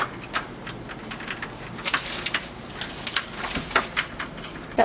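Keys jangle close by as a series of light metallic clinks and rattles, scattered irregularly over a quiet room background.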